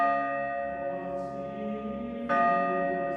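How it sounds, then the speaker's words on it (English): A church bell tolls from the Fortnite video game soundtrack, a sustained ringing tone with a fresh strike near the end, heard alone without talk. "So if you just want to hear the church bell and nothing else, you can turn everything else down and just turn up the church bell."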